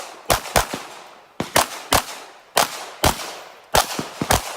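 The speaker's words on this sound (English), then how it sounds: "So I did a lot of shooting on the move on this one, almost entirely on the move" Pistol shots during a USPSA practical shooting stage fired while moving, sharp loud cracks in quick pairs and triplets repeated at steady intervals, each followed by a short echo, with no talking.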